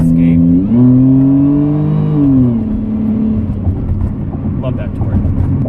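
A Ford Escape SVT accelerating, a close engine drone whose pitch climbs and shifts as the revs rise and fall, loud and steady over several seconds.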